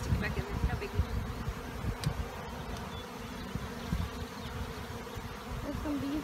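Honey bees buzz around an open Langstroth hive during a varroa mite check, a close, continuous droning hum with some louder passes near the microphone.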